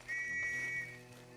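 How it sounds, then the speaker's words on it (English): Police whistles in a video game, a single shrill steady whistle blast heard close and clear for under a second, then fading to a low background hum. "they can hear the police approaching with their whistles"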